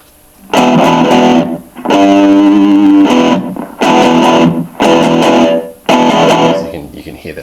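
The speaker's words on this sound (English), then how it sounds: "just to give an idea of what the delay is like at its upmost levels" Electric guitar played through a Blackstar Fly 3 portable amp with the delay effect turned up to maximum: five loud, sustained distorted chords or phrases with brief gaps, the last one trailing into echoing repeats.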